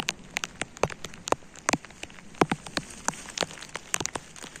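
Monsoon rain falls near a waterfall in Goa, with irregular sharp drops pattering close by on a surface over a quiet background and no talk.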